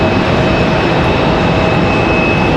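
Loud, steady jet engine roar comes from an Aeromexico Connect plane arriving at Raleigh-Durham airport. A constant high whine runs through the broadband rush, with no voices.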